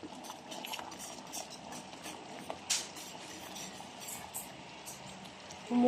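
Low, steady bubbling and simmering from a pot of pork nilaga broth, faint and continuous, with a brief clink of utensils near the end.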